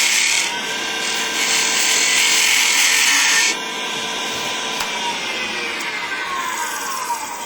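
A wooden vase tenon spins on a wood lathe while a tool cuts it shorter, giving a steady, close, rasping scrape that eases to a lighter hiss partway through.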